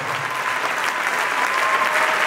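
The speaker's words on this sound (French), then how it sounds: "Nous allons acclamer le Seigneur." A church congregation at a deliverance and healing prayer service claps together to acclaim the Lord, a dense, steady wash of applause that holds at full strength throughout with no voices rising above it.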